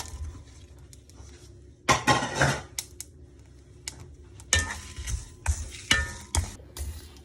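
Irregular scraping and clattering of a utensil stirring spices and ingredients as they roast in a pan for a health drink powder, coming in short bursts with quiet gaps between them.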